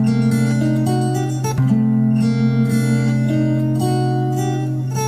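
Sustained guitar chords ring out warmly, changing smoothly from one to the next with no voices, close and full.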